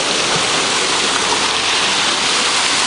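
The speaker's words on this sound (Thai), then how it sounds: "น้ำตก" A waterfall's dense, steady rush of falling water fills the whole short stretch at constant loudness, close and unbroken.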